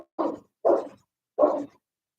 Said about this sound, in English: That's actually the neighbor's dog barking.